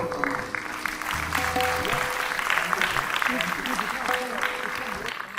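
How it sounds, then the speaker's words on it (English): Audience applause at a fusion and Sufi music event, a steady wash of clapping lasting throughout, with a voice and some tonal sounds mixed in underneath. "A big round of applause and thank you, sir."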